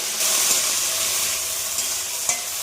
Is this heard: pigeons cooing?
no